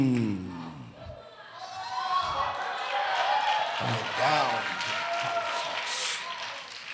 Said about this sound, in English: clap like you want to be better